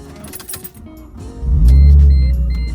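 A 2000–2007 Mercedes C-Class pulls away with a low engine rumble that swells and holds steady, heard from inside the car. Keys jingle and the cabin rattles faintly before it moves off.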